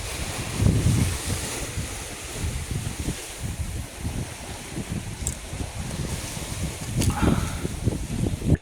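Steady wind buffeting the microphone while following seas wash and surge around a sailing boat at sea, continuous and close, with no talk.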